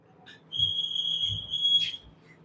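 Someone whistles a sharp, high, sustained note for over a second, rising into a brief burst at the end, with low thumps and murmuring underneath.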